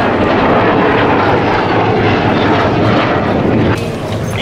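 A P-51 Mustang flies over an air show with a loud, broad roaring rush of engine noise that holds steady and then drops off slightly near the end, with no talk.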